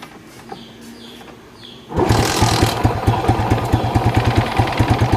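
A Fury 125 motorcycle engine, running on a weak battery after a fullwave stator conversion, catches after a quiet stretch and settles into a loud, close, steady idle with a rapid regular firing pulse.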